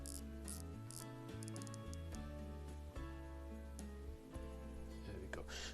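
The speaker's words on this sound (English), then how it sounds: "That's what I love is the actual bezel sound." Rolex Submariner 114060 steel dive watch bezel turned by hand, giving a run of small ratcheting clicks over steady low background music, close and quiet.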